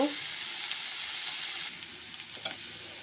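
Cloves, cardamom, cinnamon, bay leaf and cumin fry in hot oil in a pan for fried rice, giving a steady, bright sizzle with a few scraping stirs toward the end.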